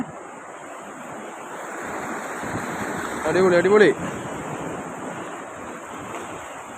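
Surf rushes continuously, swelling as a wave breaks on the shore while fishing for queenfish, and a man briefly exclaims over the roar of the water.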